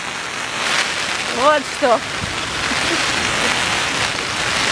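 Heavy rain pours during a storm on an island, a steady loud hiss of drops close by, with a voice speaking briefly over it.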